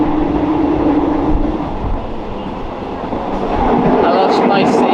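Steady rumbling roar inside a moving train in Thailand, heard from the back of the train, constant low noise with rattling and a brief higher squeal near the end.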